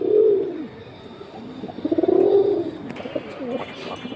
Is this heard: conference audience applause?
no